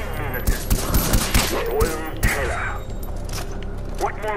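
Assault rifle fire in Far Cry 4, a series of sharp shots in an uneven rhythm over the first half, then fading into ambient game sound with a few distant bangs.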